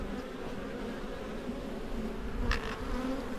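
Honey bees buzz steadily around an open backyard hive during a colony inspection, a continuous close drone with no talking.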